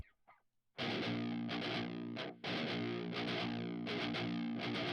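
Distorted electric guitar chugs in a galloping rhythm, short palm-muted bursts in quick repeating groups with brief gaps, loud and up close.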